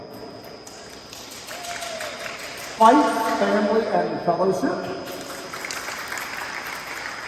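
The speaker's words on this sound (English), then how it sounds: "please, round of applause for Life is Like a Game" Applause breaks out at a sports awards banquet, a burst of clapping swelling from the room and tapering off over several seconds while a speaker talks over it.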